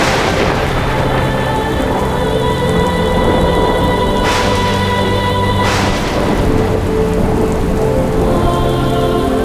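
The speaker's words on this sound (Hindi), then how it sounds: "ऐसी भी वर्षा नहीं हो रही कि लोग आ ना सके।" Heavy rain pours steadily and loudly throughout, a dense unbroken hiss with a couple of brief louder swells partway through, with no voices.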